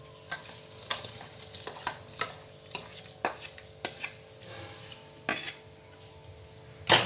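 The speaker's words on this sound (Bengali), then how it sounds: "ভালো করে এটাকে নাড়তে হবে" Gobindobhog rice being stirred into boiling milk in a pot for payesh, a series of light scraping and clinking strokes of the spoon against the pan in an uneven rhythm, close and quiet, with no speech.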